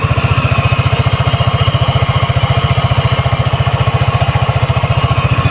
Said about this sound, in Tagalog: Pakinggan nyo yung ating makina after 5 months of usage ni ATR 160.